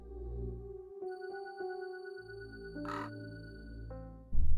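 Crows cawing in unison in Soul Reaver 2, a few harsh synchronized caws ringing out over a low droning ambient backdrop, clear and fairly close.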